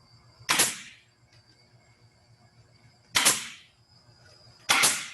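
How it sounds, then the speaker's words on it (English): A nail gun fires three nails into a wooden board, each a sharp, loud pneumatic crack with a short hiss, the first alone and the last two closer together, over a quiet background. "Shoot 3 nails."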